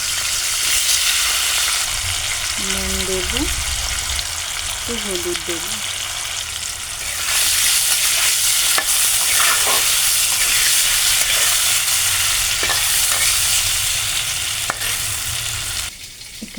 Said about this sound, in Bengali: মাছ ভাজার তেলেই আমি একটু আলু ভেজে নেব